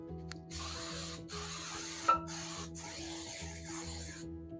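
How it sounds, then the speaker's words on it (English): Cooking spray hisses into a 9x13 baking pan in several bursts of broadband spraying, with short pauses between them, close by and fairly loud over a low steady background hum. "I need to spray that pan real quick. So I'm going to spray it."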